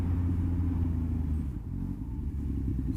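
A motorcycle rides along the road with a low, steady engine rumble and wind buffeting, the engine swelling briefly as it accelerates, close and fairly loud.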